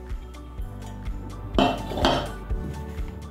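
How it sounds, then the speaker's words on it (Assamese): Metal tiffin box lifted out of a pressure cooker after cooking rice cake, giving a few close metallic clanks and knocks against the pot, with a brief scrape between them. "ঠাণ্ডা হোৱাৰ কাৰণে টিফিন বক্সটো উলিয়াই লৈছোঁ"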